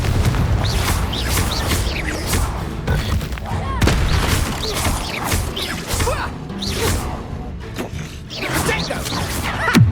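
Fire and blast spells going off in a Hogwarts Legacy battle: a steady stream of whooshing casts and crackling bursts, with repeated booming impacts over busy game noise and no talk.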